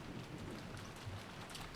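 Heavy rain in the Umineko video game hisses as a steady, faint wash of dense noise with a low rumble beneath, and no voices.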